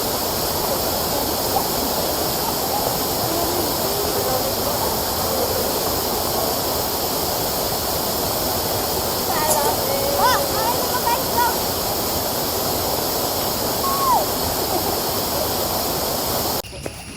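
Pange Falls in Eastern Samar, a waterfall roaring in a steady, dense broadband wash that holds level throughout, with faint voices briefly audible beneath the rushing water.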